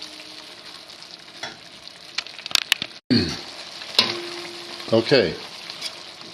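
Vegetables for pasta with cream fry in a pan with a steady close sizzle, interrupted by clattering stirs and scrapes. A brief spoken word comes partway through.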